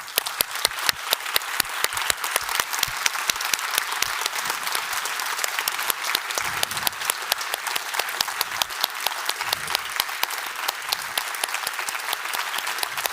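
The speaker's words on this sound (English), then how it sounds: "I think we can give a final round of applause for everyone." An audience at a cosmology lecture applauds at length, a full room of sustained clapping with some sharp, distinct claps standing out near the listener and a murmur of voices underneath at moments.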